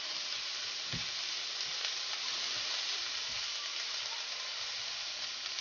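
Onion and green pepper fry in a pan over lowered heat, giving a steady, even sizzle that runs throughout with a few soft stirring knocks.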